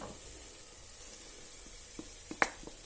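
A faint, steady sizzle of tomato paste frying with onions hisses quietly, with a few small pops and clicks near the end.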